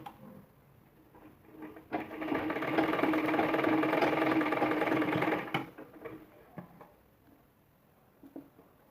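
A sewing machine stitches piping onto a blouse in one steady, close, mechanical run of about three and a half seconds, with quiet handling sounds before and after.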